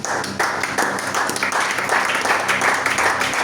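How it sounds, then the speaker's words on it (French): A prayer-meeting congregation breaks into sustained applause, dense clapping from many hands throughout, with faint voices mixed in. "Acclamons la parole de Dieu."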